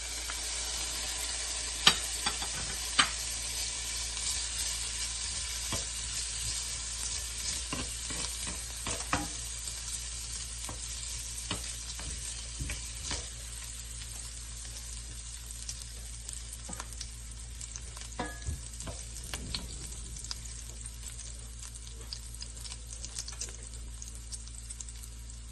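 Garlic fries in a pan with a continuous, moderately loud sizzle, scattered with sharp crackles and pops and occasional stirring clatter.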